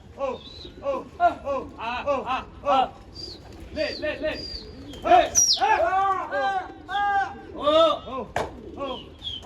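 Pigeons at a loft of racing birds, with cooing calls and wing flutters scattered throughout, close and fairly loud, mixed with some bleat-like animal calls and a sharp clap near the end.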